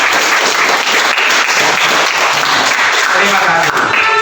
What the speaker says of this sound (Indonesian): Tepuk tangan sebelum kamu berdiri